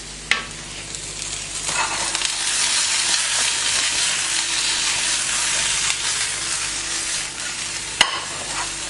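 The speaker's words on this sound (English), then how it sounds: "I've just got some zucchini here, or courgette, which I'm also sautéing with a bit of thyme and a bit of garlic" Zucchini sautéing in a pan with thyme and garlic, a steady close sizzle with light stirring scrapes and a couple of sharp knocks.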